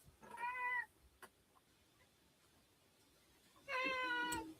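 A kitten meows twice, two clear drawn-out cries separated by a quiet pause, close by in a quiet room.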